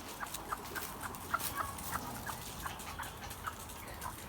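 A Blue Mutlet hen wandering alone near a coop gives a run of soft, repeated clucks, about a dozen short calls in an uneven rhythm over a quiet background.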